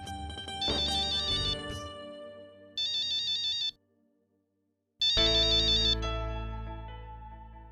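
An incoming call's phone ringtone sounds in bursts, a bright repeating electronic melody that plays, pauses, returns briefly, then starts again loudly with a sustained tone, close and alone with no talking.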